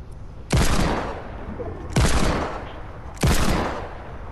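Semi-auto gunfire in a video game: three loud, evenly spaced single shots, each with a sharp crack and a decaying echo.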